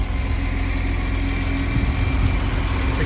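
Six-cylinder fuel-injected engine of a 1986 BMW 728i E23 saloon idling with the bonnet open, a steady, even rumble with a faint high whine, continuous and fairly close with no one talking.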